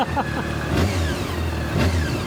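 Honda CBR600 F4i motorcycle engine revving up in repeated bursts close by, a steady low idle surging into two higher throttle blips with no talk over it.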